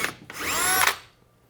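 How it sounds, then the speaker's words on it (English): A short burst of a power drill with a 7/32 inch bit spinning up and boring into a wooden ceiling rafter, loud and close, about a second long before it winds down. "I just drilled up in the center of that with a 7/32 inch drill bit"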